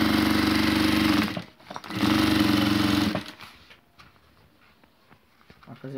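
Sewing machine stitching around bias binding for a decorative banner, two loud steady motor runs of about a second each separated by a short pause, then quieter handling sounds.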